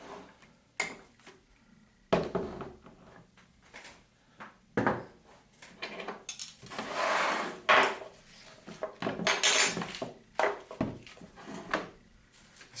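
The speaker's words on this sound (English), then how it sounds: "cut open our pineapple here." Knife cutting open a pineapple on a board, a series of close knocks, thuds and crunching scrapes in irregular bursts with quiet gaps between.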